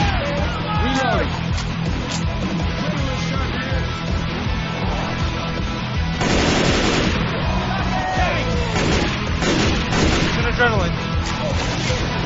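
Heavy sustained gunfire in Left 4 Dead 2 as players fire on a tank during a rock concert finale, with loud continuous shooting, bursts and booms mixed with game effects and shouted voices.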